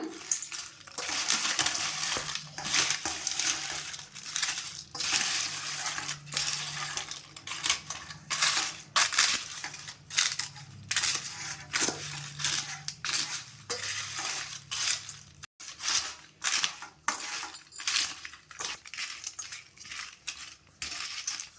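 Papad chat ingredients being mixed in a bowl: steady crisp crunching and scraping of broken papad pieces against the bowl, continuous clattering rhythm throughout, close and fairly loud with no voices.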